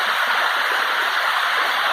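Waterfall at São Benedito do Sul, a steady, loud broadband rush of falling water that fills the whole clip without a break and drowns out any other sound.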